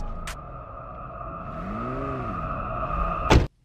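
A yellow turbocharged Ferrari pulls into a driveway, its engine a steady close rumble that rises briefly in a rev before cutting off abruptly, with a door-like thump near the end.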